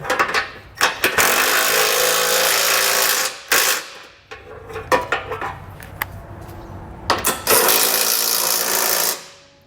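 A power tool with a 17mm socket snugs down new bolts on a Curt trailer hitch under a 2021 Subaru Outback wagon: loud whirring bursts of several seconds each, broken by short ratcheting pulses and metallic clicks.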